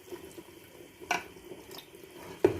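A flour-and-water mixture is poured little by little into a pot of beef nihari, making two brief, soft liquid splashes over a quiet kitchen background.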